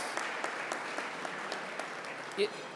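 An audience at a housing symposium claps in steady, moderately loud applause that carries on throughout, with a brief voice near the end.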